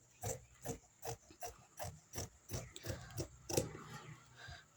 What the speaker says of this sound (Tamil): இப்போ நான் ஃப்ரண்ட்டோட நெக் ஃபேஷிங் கட் பண்ணி எடுக்கிறேன்.